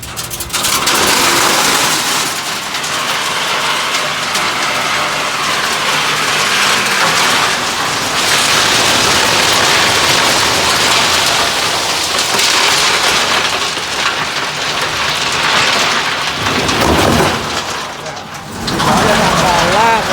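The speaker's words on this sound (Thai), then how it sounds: "พายุฝนเริ่มมาแล้วนะฮะ" Heavy rain from a thunderstorm roars steadily for the whole stretch at a railway construction site, a dense loud hiss with rumbling underneath and voices faintly talking beneath it.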